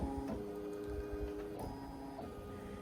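A Ricoma EM 1010 embroidery machine traces its design over the hoop, giving a steady mechanical whirr with tonal motor hums that shift in pitch a few times, close and alone.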